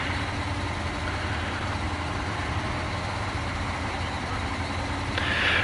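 A heavy truck engine in SnowRunner idles and rumbles steadily with a low, constant drone, swelling slightly louder at the very end.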